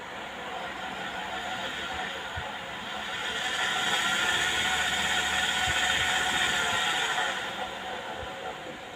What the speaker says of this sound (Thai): อันนี้อีกถอยหลังนะครับ อีกด้านหนึ่ง อ่า หมุนนะครับ มาหมุนดิมอเตอร์